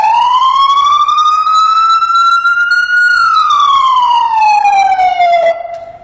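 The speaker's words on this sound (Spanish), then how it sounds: "Este tono que vas a escuchar a continuación es cuando nosotros estamos en ruta," Ambulance siren using its en-route tone for long avenues, a loud, close wail that slowly rises, holds, then slowly falls in one long sweep before cutting off.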